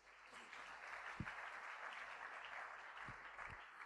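A church congregation applauding after a scripture reading, steady even clapping from many hands heard at a distance, with a few brief low thumps.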